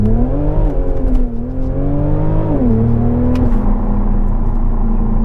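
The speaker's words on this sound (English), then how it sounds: "what brilliant thrust from this motor, and that downshift is absolutely mind-bogglingly awesome." A car engine revving hard and pulling after a downshift, a loud steady drone whose pitch rises, dips and settles, heard close and alone.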